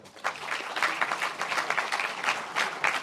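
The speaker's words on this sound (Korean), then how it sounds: "함께 박수로 격려해 주십시오" Applause at a Democratic Party assembly of National Assembly members electing a new floor leader: a room of people clapping in a lively, uneven patter that holds steady throughout.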